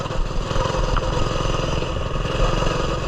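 A Coleman mini bike's small engine runs steadily on a trail, a loud, close, buzzing putter with slight rises in revs and some clatter, with no talking.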